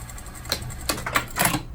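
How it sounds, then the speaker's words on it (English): A sewing machine runs in short mechanical bursts, a quick rattling stitch that starts and stops a few times up close. "Let me sew all the way to the bottom and double and back stitch"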